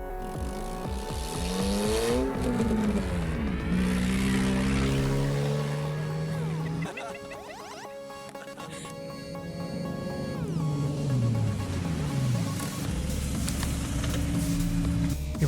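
Cars run carnicross tests through shrubland, their engines revving up and down with rising and falling whines as they pass close by, loud and continuous apart from a short lull.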